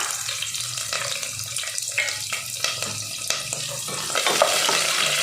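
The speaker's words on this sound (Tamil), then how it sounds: "வெங்காயத்தையும் கருவேப்பிலையும் நல்லா வதக்கிக்கலாம்." Onions and curry leaves sautéing in hot oil for vegetable kurma, a steady sizzle with scraping stirs and clinks of the spoon against the pan, growing slightly louder toward the end.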